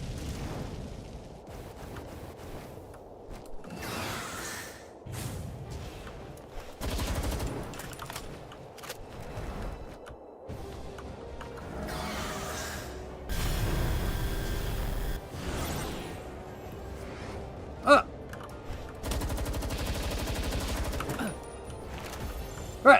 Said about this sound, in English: I'm going to fire a fireball at him